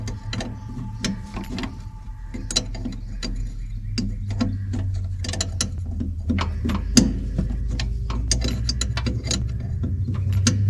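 Repeated ratchet clicks from a socket wrench loosening a 15 mm bolt on a riding mower, close up, in bursts of rapid clicking with short pauses over a steady low background hum.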